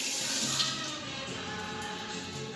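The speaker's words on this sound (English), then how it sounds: "So we're going to wash these leaves. Make sure they don't have any dirt on them or insects for that matter." Fresh herb leaves being washed in running water for a tomato sauce, a steady close splash and trickle of water from a tap throughout.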